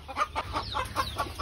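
Startled local breed chickens clucking in a rapid, rhythmic series of short nasal calls, close and moderately loud, with no talk.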